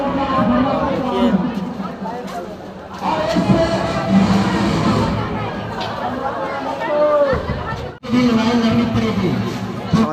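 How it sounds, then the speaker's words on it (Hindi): Large crowd gathered at a college, a dense hubbub of many voices chattering and calling out close by, with louder surges of shouting and a brief dip partway through. "ये पैसे देकर बुलाई गई भीड़ नहीं है, ये सब अपने आप आए हैं"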